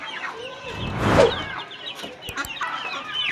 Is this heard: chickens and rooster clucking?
yes